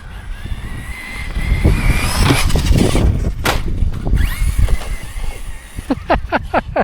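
An Arrma Notorious 6S BLX RC car landing off a jump into a pop wheelie, its electric motor whining loud and close, then rising and falling in quick revving bursts toward the end, with outdoor rumble underneath.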